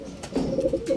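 Racing pigeons that have just arrived at a loft in San Pablo, Laguna coo softly and closely in a short, low burst.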